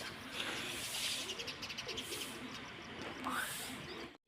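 Soft pigeon cooing repeats in the background amid a steady outdoor hiss, with a few faint chirps; no speech.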